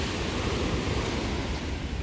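Pacific Ocean surf at Lovers Point in Pacific Grove, California, makes a continuous broad hissing wash, steady and fairly loud, with no voices over it.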